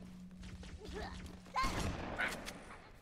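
A classic shotgun firing in Halo 2 Anniversary, with one loud, broad blast at about the midpoint over game hum and faint voices, then a smaller follow-up burst.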